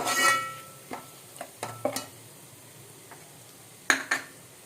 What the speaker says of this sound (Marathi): फोडणीत मी हे चिकन जे उकडलं होतं ते घातलं.